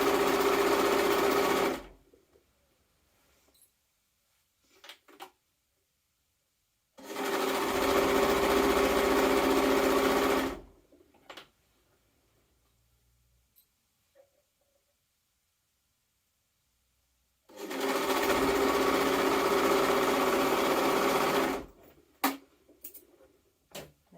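A sewing machine stitches a jumpsuit seam in three separate bursts of fast, whirring running, each lasting a few seconds. Quiet pauses with small clicks and handling sounds fall between the bursts.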